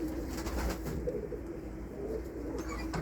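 Domestic pigeons cooing in a loft, soft low repeated coos blending together under a steady background hiss, close and continuous.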